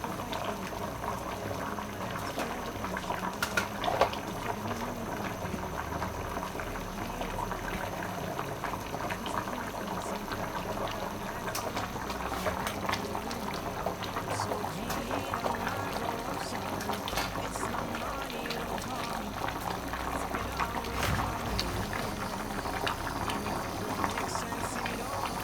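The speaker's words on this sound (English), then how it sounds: "So I'm just adding some water because I want the liquid there." Water poured into a pot of boiling yam pepper soup, with a steady bubbling simmer and liquid splashing running continuously at moderate loudness, no talk over it.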